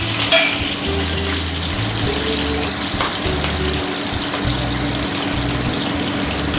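Curry leaves and green chilies frying in hot oil give a steady, soft sizzle and crackle throughout, close to the pan, with a low repeating hum underneath.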